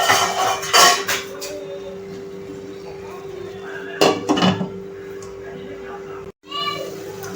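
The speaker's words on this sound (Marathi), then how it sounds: "ह्याला आपण झाकण ठेवून शिजवून देऊया तेल सुटेपर्यंत." A metal lid clanks onto a pot of potato and pea sabzi simmering in oil. A couple of short clattering knocks sound close by, with talking and kitchen noise around them.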